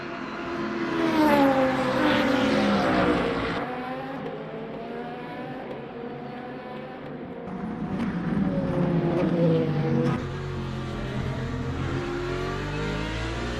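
A Lexus race car in the Le Mans Ultimate racing game at Fuji roars through repeated rising and falling revs, with gear changes and a second engine note nearby, loud and continuous.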